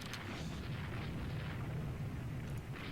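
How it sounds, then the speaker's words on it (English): A torpedo strikes a warship in the naval strategy game Rule The Waves 2, a dense, rumbling explosion roar sustained for a few seconds, fairly faint overall. "Aspern is hit by a torpedo."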